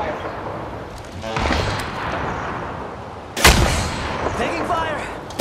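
Gunfire in the video game Apex Legends: a muffled volley of shots, then a sharp, loud report with crackling after it, all over a busy game background.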